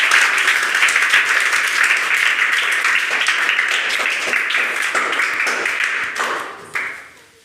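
Loud, dense applause from an audience welcoming a team onto a stage at a coaching academy results event, steady many-handed clapping that thins and fades toward the end, with a few last claps trailing off.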